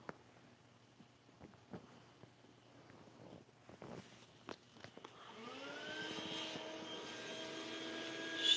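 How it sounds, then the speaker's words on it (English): Vacuum cleaner running in another room, a steady whining drone that rises in level and holds through the latter half after a stretch of scattered knocks and clatter, with a high thin whistle at the end. "For if you hear anything coming from out there right now, it'd be the vacuum cleaner"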